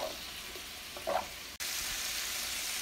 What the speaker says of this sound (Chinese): 把剩下的苹果醋和切碎了的小辣椒一起倒入锅中，继续翻炒均匀